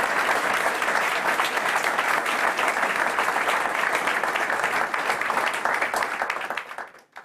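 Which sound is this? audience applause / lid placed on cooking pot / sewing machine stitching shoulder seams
audience applause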